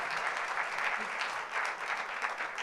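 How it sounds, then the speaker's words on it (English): An audience at an education awards ceremony in San Diego gives a sustained round of applause, dense and steady clapping filling the room without pause, with no speech heard. "another round of applause to Dr. Tony Thank Smith."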